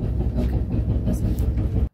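An AC passenger train rolls through Rajasthan with a loud, steady low rumble and faint rhythmic rail clatter, heard from onboard before cutting off abruptly.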